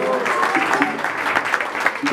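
Wedding guests applaud after a youth mariachi band finishes a song, brisk clapping throughout with some voices and faint lingering instrument tones mixed in.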